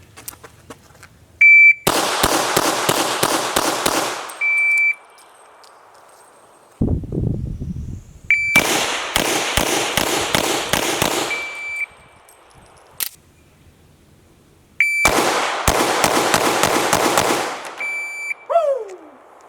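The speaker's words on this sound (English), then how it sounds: "shooting 7 yards, 7 rounds in 3 seconds" Pistol fired in three fast strings of seven rounds at 7 yards during a timed shooting drill, each string a loud, tightly spaced volley of sharp reports, separated by pauses and electronic timer beeps.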